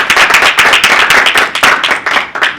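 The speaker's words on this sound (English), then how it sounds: "give yourselves a round of applause for that" Applause from a group of newly selected competitors: a dense, steady patter of many hands clapping close by, continuous for a few seconds with no talking over it.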